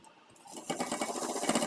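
A sewing machine stitches an Afghani salwar. A quiet pause gives way to a fast, steady mechanical rattle of the needle running close and loud until the end.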